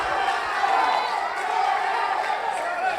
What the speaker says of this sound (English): The crowd is going wild, chanting Salazar.